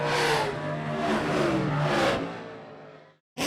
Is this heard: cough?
no